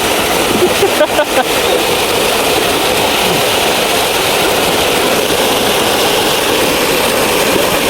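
A motor boat engine on a fishing trip runs steadily throughout, loud and constant with a rushing wash of water over it.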